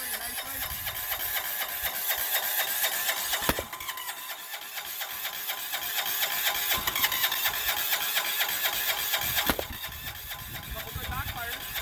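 Single-cylinder 6HP 178F diesel engine cold starting in winter, running with a loud rapid clattering knock and a couple of sharp bangs along the way, close by. No one speaks.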